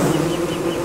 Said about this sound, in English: avoid the bees.